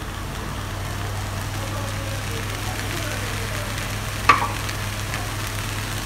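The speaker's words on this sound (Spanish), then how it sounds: "La vamos a sofreír con un poquito de achiote, solo un par de minutos." Onion sautés with achiote and grated fresh cheese in a pan, a steady even sizzle with a low background hum, one sharp knock, and a voice talking quietly at times.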